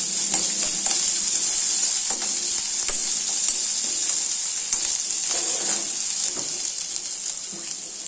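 Steady, loud sizzling of onions and curry leaves frying in hot oil, with occasional stirring scrapes and no talking.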